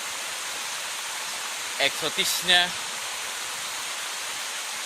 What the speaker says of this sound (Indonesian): air terjun dan kolam pemandian alam pada kali atau sungai Hoogland di Desa Holat